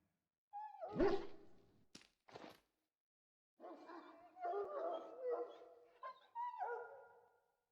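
A dog penned up in the Dragon Age: Origins fantasy game gives a few short, rough barks and whining howls in separate bursts, close and fairly clear against silence, with no talk over it.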